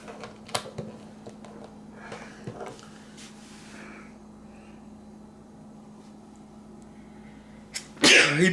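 A person sneezes once, a sharp loud burst near the end, after quiet handling noises and a faint steady hum in an indoor room.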